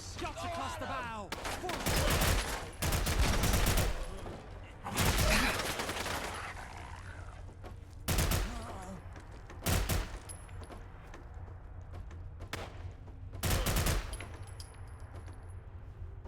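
Bursts of gunfire from the video game Fallout: London, with several loud volleys and rapid-fire stretches separated by quieter gaps, and voices talking in the background.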